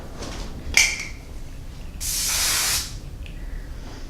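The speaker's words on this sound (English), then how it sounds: "So it's important to invest in a good hairspray that does not dry out your hair." Hairspray is sprayed onto curly hair in one steady hissing burst of under a second. It is preceded by a faint click and a light rustle, in a quiet room.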